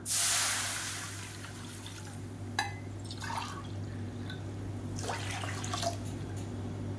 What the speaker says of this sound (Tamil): இப்போ அதே கடாயில் நல்ல ஒரு 400 ml அளவுக்கு தண்ணி சேர்த்துக்கலாம்